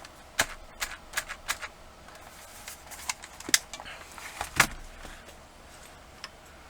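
Keys clack on a Unitech K20 258 mechanical keyboard with an 1800 layout and clicky white Alps switches, in an uneven scattering of crisp close keystrokes with gaps between them.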